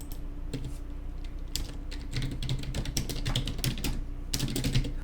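Rapid irregular keystrokes on a computer keyboard while entering text in Photoshop, a busy clatter of clicks with brief pauses, close-up over a faint steady hum.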